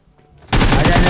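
A sudden burst of loud rapid automatic gunfire in a shooting video game kicks in halfway through, following a brief quiet lead-in, and sustains close and dense until the cut.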